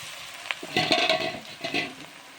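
Ginger, garlic, onion and coriander powder fry in a pan while being stirred, a close sizzle with a few scraping bursts and soft clinks over a short stretch.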